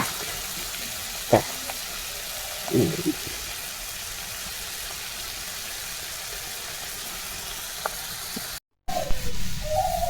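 Ridge gourd fries in a pan with a faint, steady sizzling hiss, interrupted by a few soft clatters of a utensil and one brief dropout near the end.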